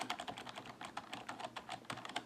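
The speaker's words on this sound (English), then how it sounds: "I just straight up just plug the USB keyboard into my thing, and if I start typing up here" Rapid clacking keystrokes on a USB computer keyboard, steady and close, with irregular bursts of key presses throughout and no talking.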